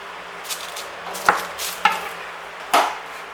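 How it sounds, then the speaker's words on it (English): A knife cutting through puff pastry sausage rolls and trimming off the ends on a board, three distinct sharp chops spaced about a second apart over a quiet background, close and alone with no voices. "Now you can cut them into 2 sausage rolls, and I'll trim the ends off because they're old"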